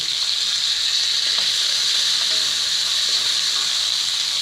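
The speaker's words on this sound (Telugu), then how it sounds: "కరివేపాకండి, ఆనియన్ కొద్దిగా వేగాలండి" Onions, green chilli and curry leaves fry in a pan, giving a steady, close sizzle with a bright hiss throughout and faint stirring clicks underneath, with no talk.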